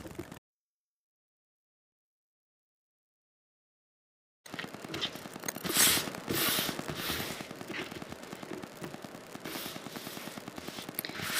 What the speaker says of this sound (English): go ahead and stitch down the left and the right hand sides